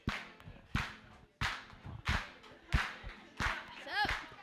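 Hands clap together in a slow, steady beat, about once every two-thirds of a second, loud and close, as a plenary session audience claps along to a song with faint voices underneath.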